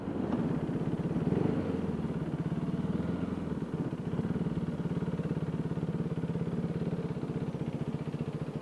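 A KTM Duke 390 motorcycle engine runs steadily and close, holding a throbbing mid-pitched thrum that dips slightly as the bike slows to park, then settles into an even, loud idle.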